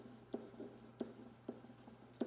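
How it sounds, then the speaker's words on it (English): A pen writes on paper in short, faint, scratchy strokes that come in a loose rhythm of several quick taps and scrapes, heard close up in a quiet room. "So I'm going to write air pump."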